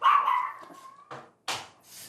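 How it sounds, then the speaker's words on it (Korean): An anxious, fearful small dog barks in a home: a drawn-out yelping bark followed by two sharp, close barks with brief pauses, no talking. "조금 자기가 불안해서 짖고 공격적인 모습을 보이는 아이예요"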